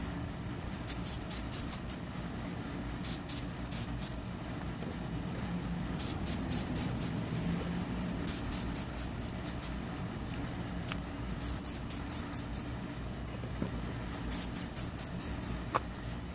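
Air filter oil sprayed in even coats across the ribs of a cleaned car air filter, short hissing bursts repeating in groups of several puffs, close and steady over a low background hum.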